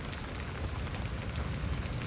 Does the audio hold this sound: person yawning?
no